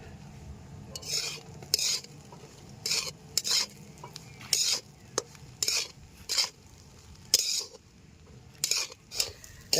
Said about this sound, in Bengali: এবার কিছুক্ষণ নাড়িয়ে তারপর নামিয়ে নেবো